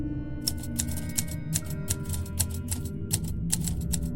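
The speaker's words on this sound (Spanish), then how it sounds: "Un tecleo muy apagado. La máquina era una IBM." Muted typing on an IBM typewriter: a quick, fairly regular run of soft key clicks over a steady low hum, close and fairly quiet.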